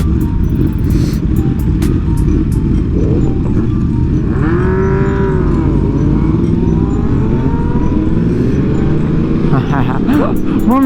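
A car pulls away from a stoplight, its engine rising in a long accelerating drone under steady loud wind rush. Someone talks over it.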